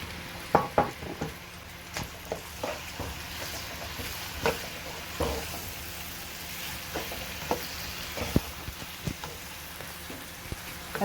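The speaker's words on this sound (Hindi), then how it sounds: "अब हम इसमें डालेंगे प्याज।" Onions sizzling and frying in hot oil in a pan as the base for chicken tikka masala, with a steady crackle, scattered pops and occasional stirring clinks, close and loud with no talking.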